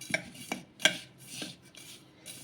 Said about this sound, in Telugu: ఇప్పుడు ఇవి రెండు కూడా కలిపేసుకుందాం ఇలా ఇవి రెండు కూడా కలిసేలాగా కలిపేసుకుందాము ఇలా